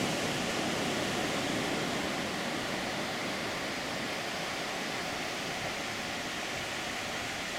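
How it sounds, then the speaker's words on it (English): Small streams of water drain across the sand at Playa Potrero beach in Costa Rica, a soft, continuous broadband hiss with surf washing faintly beneath. "We have these interesting phenomena here of little waters draining."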